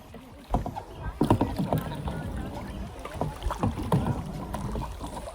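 Kayak being paddled at Cola beach in Goa, with rhythmic splashes and water sloshing close by, wind noise on the microphone, and people chatting over it.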